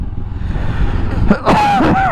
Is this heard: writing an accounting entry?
no